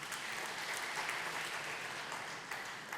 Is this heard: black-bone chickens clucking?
no